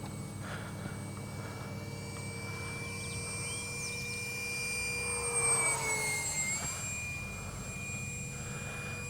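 A small RC jet engine on a Skynetic Neptune model plane whines steadily with a high pitched tone, rising and falling slightly as it passes, fairly distant, no voices.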